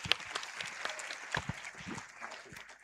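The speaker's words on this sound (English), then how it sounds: "Can we give him a round of applause?" Audience applause at a youth indaba event, a steady patter of clapping from a moderate crowd with a few sharper claps standing out, fairly soft overall and without talk.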